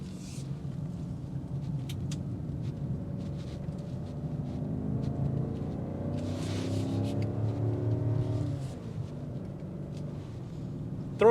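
2026 BMW X7 M60i SUV engine accelerating, a muted, smooth rumble heard from inside with rising tones sweeping upward through the gears, fairly quiet and steady.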